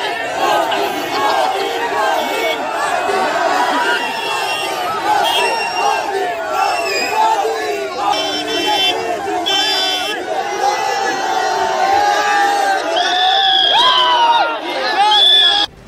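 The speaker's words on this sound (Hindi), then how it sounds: "भीड़ ने मोदी मोदी का नारा लगाना शुरू कर दिया" A dense crowd at a political rally in Bihar chants Modi Modi slogans, loud and continuous with overlapping shouts, cheers and chatter throughout, some higher voices rising near the end.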